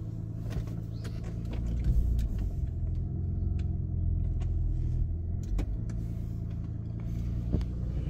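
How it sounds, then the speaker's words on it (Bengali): A 2008 Mitsubishi Pajero V93 with a 3000cc engine runs at a steady, low idle rumble, close and continuous, with a few faint clicks and no speech. "চলুন গাড়িটা স্টার্ট দিয়ে দেখি"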